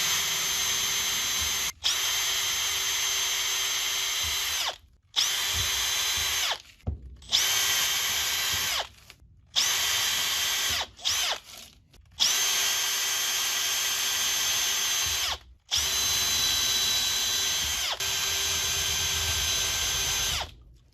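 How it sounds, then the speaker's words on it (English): A power drill bores holes in corrugated plastic parts, running in loud sustained bursts of high-pitched whine separated by short pauses, about a dozen stops and starts in close succession. "The next step is to drill all the holes in the corrugated plastic parts."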